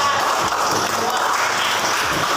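Participants in an academic supervision coaching session applaud a presenting group, a dense, loud, continuous patter of many hands clapping, with a voice rising over it.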